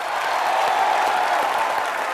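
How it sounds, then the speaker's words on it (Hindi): Studio audience on Comedy Nights with Kapil applauds Priyanka and Umang Kumar, a dense, steady wash of clapping from a large crowd throughout, with no voices over it. "एक बार प्रियंका और उमंग कुमार के लिए जोरदार तालियां"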